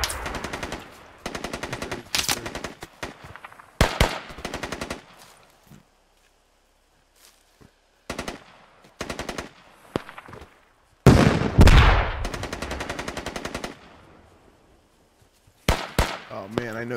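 Sharp machine gun bursts and single rifle shots in the military shooter Squad, coming in loud clusters separated by quiet gaps, some near and some more distant.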